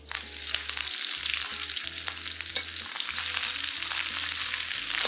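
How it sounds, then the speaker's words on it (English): Vegetables fry hard in a carbon steel wok on an induction cooker, a steady, loud sizzle and crackle with stirring scrapes throughout, under a low electrical hum that cuts in and out. "Cook these vegetables till they all turn brown. Rub your vegetables up the side of the wok."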